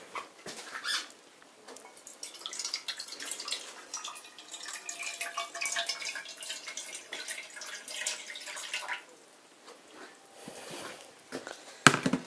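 Two cups of hot water poured into a pan on a stove, a steady splashing, trickling stream running for several seconds close by, with a few clanks near the end and no talk.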